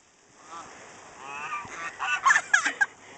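A goose gives a few rising, harsh honks that build in loudness toward the end, close by and alone without voices.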